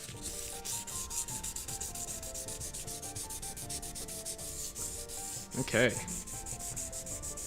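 Fine sandpaper scrubs a steel sword blade in quick, even back-and-forth strokes, close and loud, with one short spoken word in the middle of the steady rubbing.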